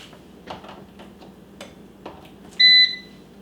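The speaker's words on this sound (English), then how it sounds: "now that I've plugged it in, you heard it beep" An LCD projector gives a single short electronic beep when plugged in, sharp after a few faint clicks and taps, close and clear in a quiet room.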